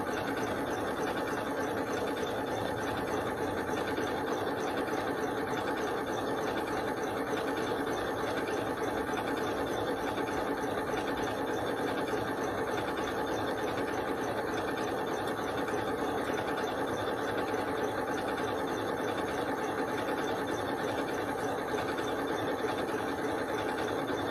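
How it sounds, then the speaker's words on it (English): A sewing machine runs steadily and smoothly for the whole stretch, a continuous even whir with a fine rapid stitching rhythm and no talking. "it's such a quiet, smooth sewing machine"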